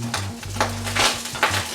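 Garlic being stirred into browned ground meat in a skillet for skillet lasagna, with soft scraping strokes and a light sizzle, sounding close with no talking.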